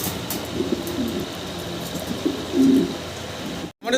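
Big fancy pigeons coo softly nearby in low, repeated murmurs over steady background noise, with one slightly louder coo near the end before a brief cut.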